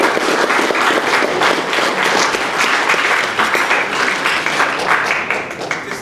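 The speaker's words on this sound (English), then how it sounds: "I'd like to give you a little bit of a round of applause for" Sustained applause from an audience at a Fingal community art event, steady dense clapping filling the whole stretch at close range, with no voices standing out.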